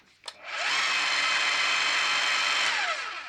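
A Bosch GBH 5-40 D SDS-max rotary hammer runs at its minimum speed setting, giving a loud, steady mechanical whir and hammering rattle that spins up quickly, holds for nearly three seconds, then winds down at the end.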